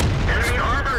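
An artillery shot fires in World of Tanks during a clan wars battle on the Highway map, a loud booming blast that rolls on through the whole short moment.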